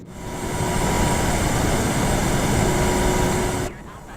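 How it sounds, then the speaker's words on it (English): Jet engines spool up to takeoff thrust on a simulated FlyingFries Quasar airliner in Microsoft Flight Simulator, a loud steady roar with a faint tonal whine that swells in over half a second, holds, then cuts off sharply near the end. "It's time for takeoff. Throttles forward."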